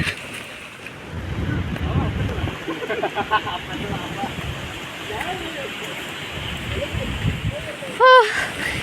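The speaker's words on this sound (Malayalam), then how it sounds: "നല്ല മഴ കാറ്റു" Strong wind roars and buffets close to the microphone with a rushing, rain-like hiss, while people talk intermittently and a brief tone sounds near the end.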